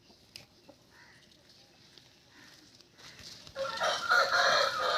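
A Bhimavaram breed rooster, a fighting cock, crows loudly near the end after quieter farmyard background and faint clucks, with no talk over it.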